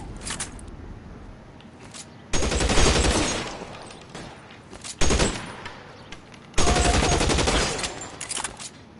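Tommy gun fire in L.A. Noire: three loud bursts of rapid automatic shots, each lasting over a second, separated by quieter stretches of game ambience.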